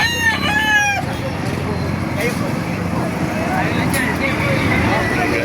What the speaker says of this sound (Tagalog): Ayan po, mga manok.